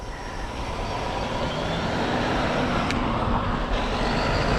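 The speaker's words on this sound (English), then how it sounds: "Never underestimate the semi-tractor trailer truck." A semi-tractor trailer truck rumbles along the road nearby, its engine and tire noise a steady, loud broadband roar building slightly over several seconds, with no talking.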